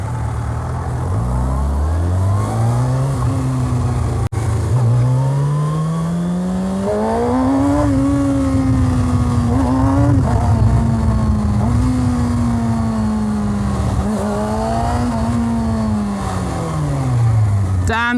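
A Kawasaki Ninja ZX6R 600cc superbike engine revs hard while riding in traffic, pitch climbing repeatedly through gear changes in a loud, continuous, close-up whine with wind rush underneath.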